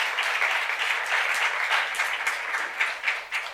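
Church youth congregation claps together in a steady, dense round of applause that holds throughout, with no talk over it.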